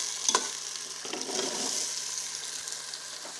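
Large chunks of potato stirred and frying in a pan for restaurant-style aloo palak, giving a continuous hissing sizzle with a few clinks of the spoon near the start.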